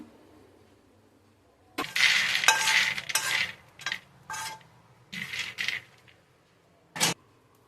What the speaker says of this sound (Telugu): మీడియం ఫ్లేమ్లో పెట్టుకుని పల్లీలు వేయించుకోవాలి దోరగా